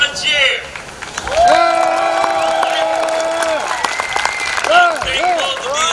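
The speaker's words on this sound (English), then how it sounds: "Let's give them a cheer." A crowd at an outdoor community band concert in Lincoln Park cheers and applauds for veterans, a loud sustained mix of clapping and voices with tonal whoops, while a voice talks over it.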